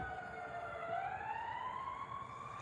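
An emergency vehicle siren wails at a distance, its steady gliding tone rising and falling faintly over a constant low background hum, with no talking.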